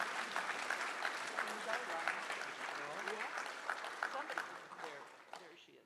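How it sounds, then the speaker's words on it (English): An audience at a science society evening session applauds for a presenter, a rolling patter of clapping that gradually thins toward the end, with a voice speaking faintly beneath it. "let's give a round of applause for Ryan"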